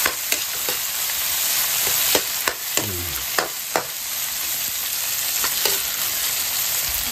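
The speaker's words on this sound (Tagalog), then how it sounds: "Sa pag sukay-sukay natin konti, yon hanggang lumambot yung mga lamasis po natin." Onions and tomatoes stir-fried in a pan, a loud, constant close sizzle broken by regular sharp scrapes and taps of a spatula roughly every half second to second.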